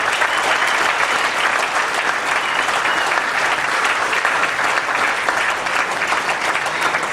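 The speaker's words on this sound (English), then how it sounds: "a big round of applause for Mike Gould" An awards-ceremony crowd at a Canadian national arm wrestling championship breaks into sustained, even applause, a thick continuous patter of many hands with no voices over it.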